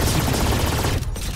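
Rapid gunfire from the tactical shooter game Valorant crackles loudly for about a second, then drops away into a quieter tail.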